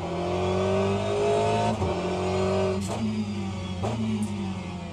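A race car engine from the sim racing game Le Mans Ultimate at the COTA circuit, accelerating and revving close up with tonal harmonics and several sharp gear-shift dips, with no talking.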